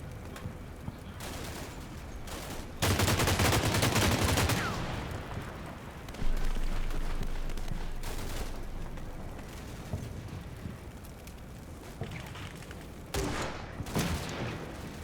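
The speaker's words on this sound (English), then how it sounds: "So it's an underslung grenade launcher there" Underslung grenade launcher fire in the Cold War wargame Combat Mission: Cold War, with loud bursts and thumps over continuous battle noise, a big blast near the start and another later.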